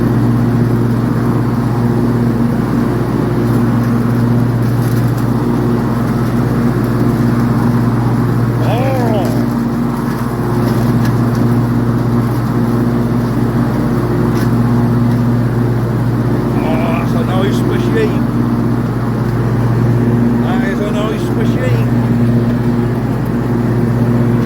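A ride-on John Deere lawn mower, cutter deck lowered and blade engaged, drones steadily and loudly close by, a constant rumble with slight shifts in pitch throughout.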